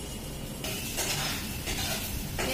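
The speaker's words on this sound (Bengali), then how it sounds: "এই হচ্ছে কড়াই জিরে ফোড়ন দিয়ে আলু ভাজছি।" Potatoes fry with cumin tempering in a wok using little oil, a steady close sizzle with scraping and stirring surges rising and falling through the sound.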